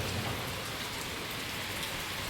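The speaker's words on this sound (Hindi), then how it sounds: "खूब बारिश होगा, अभी भी हो रही है बारिश" Dense, steady heavy rainfall hissing on surfaces, continuous and close with no pauses or voices.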